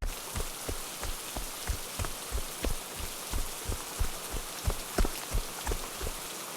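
Night rain falls as a steady, even hiss, layered with regular soft low thumps pulsing about twice per second, heard alone without voices.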